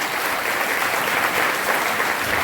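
An audience at a Catholic church lecture on the Coronation of Mother Mary claps to thank the Father. The applause is loud, dense and continuous, with no voices over it.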